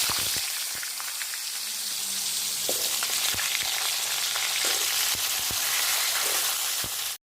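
Vegetables fry with panch phoron in a hot pan, giving a dense, even sizzle that holds steady from start to finish, dotted with small sharp pops and crackles, close and loud with no talking.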